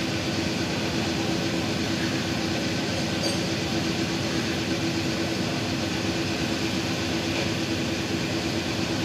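A Mahindra Blazo BS6 truck engine held at full throttle, with a revving fault and a NOx and check-light warning, gives a loud, unbroken, steady roar throughout, with no talking.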